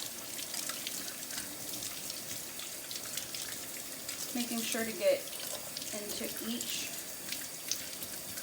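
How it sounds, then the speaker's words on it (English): Cool tap water runs steadily while milking equipment is rinsed by hand, a continuous splashing hiss with some clinking and sloshing near the middle, under a person speaking. "And I'm going to again rinse with cool water."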